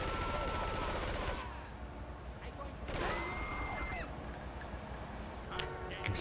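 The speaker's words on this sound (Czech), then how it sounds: "Střílím do hlavy a během toho, co do něj střílím, tak on střílí do mě." Gunfire in the video game GTA III, with bursts of shots running through much of the clip under a steady layer of game sound and music.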